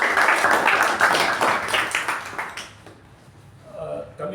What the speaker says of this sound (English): a big round of applause to both our evaluator and the speaker